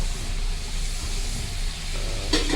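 Butter melts and sizzles in a pan for mixed vegetables, a steady close hiss filling the short moment.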